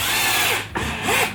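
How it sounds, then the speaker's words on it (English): A power drill whines close and loud as it pre-drills through a metal angle during container construction, its pitch sagging under load and then spinning back up after a brief pause. "pre-drill it down"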